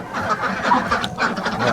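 Chickens and ducks in a farm coop during morning chores, a steady dense chorus of clucking and quacking close by, with no talk.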